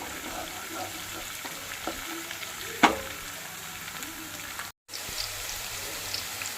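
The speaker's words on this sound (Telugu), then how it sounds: "ఈ అల్లం వెల్లుల్లి పేస్ట్ పచ్చివాసన పోయేదాకా వేగనిచ్చుకోవాలి." Ginger-garlic paste fries in a pan with a steady, close sizzle, broken by one sharp clatter midway and a brief dropout to near silence.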